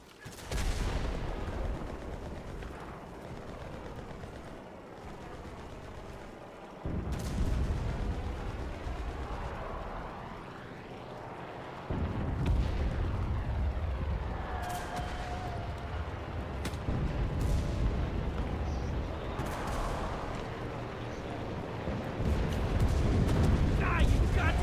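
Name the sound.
artillery fire in the video game Enlisted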